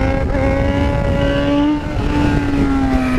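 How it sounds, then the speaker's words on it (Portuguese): A Yamaha XJ6 motorcycle engine revs hard to about 13,000 RPM, a loud, close, steady high-pitched whine that rises, dips briefly at a gear shift, then pulls again with no one talking. "Quando ela chega em 13 mil RPM, a gente joga a marcha e puxa, a moto vem, mano."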